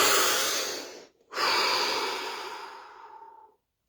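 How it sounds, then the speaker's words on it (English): A deep, slow breath drawn in close to the microphone, a brief pause, then a long, full exhale that gradually fades. "Deep breath."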